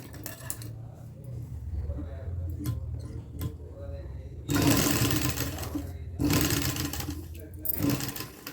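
A sewing machine runs in two loud bursts while stitching along a marked round neckline, with quieter handling sounds and a low hum between the runs.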